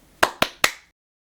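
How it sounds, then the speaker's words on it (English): Three sharp hand claps ring out close and alone in an even rhythm, each with a short fading tail, followed by silence. "I'm gonna clap 3 times"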